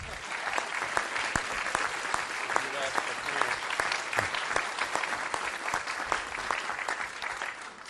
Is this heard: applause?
yes